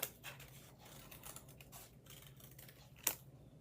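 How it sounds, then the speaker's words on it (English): Scissors snipping paper into a small wiggly cloud shape, quiet close cuts in an irregular rhythm with one sharper snip near the end, no talking. "Just gonna cut out a little wiggly shape to be your cloud."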